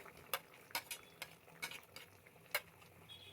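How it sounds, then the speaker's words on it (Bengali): Dates and raisins are stirred into a pan of tomato chutney: faint, sparse scraping and clinking strokes over a low simmering hiss, heard alone. "একটু নেড়ে নিচ্ছি"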